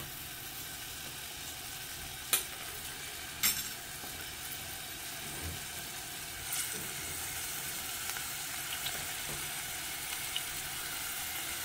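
Onion, garlic and shrimp shells frying in palm oil in a pan, a steady soft sizzle throughout with a few sharp clinks of a utensil near the start.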